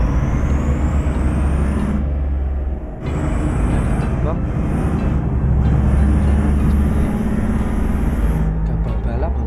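A truck's air brake releases a loud hiss over the steady rumble of a heavy truck hauling unhulled rice, sustained across the recording with a brief dip midway; a voice talks over the engine noise.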